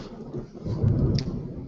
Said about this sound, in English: Whoa, there's a storm here.